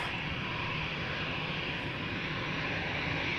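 An Embraer 195 E2 airliner at Amsterdam airport, its engine a continuous even roar with a hissing upper band, steady and fairly distant throughout with no talking.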